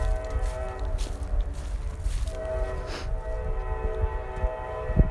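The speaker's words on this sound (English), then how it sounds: "you can hear that train coming from miles" Train rolling through a valley near a park, a distant continuous rumble with sustained tonal horn-like hum, heard from afar with soft nearby footsteps.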